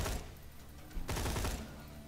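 A Dahl Scorpio assault rifle from Borderlands 2 fires a tight burst, a loud rapid cluster of shots over about two seconds with a brief gap, no talking.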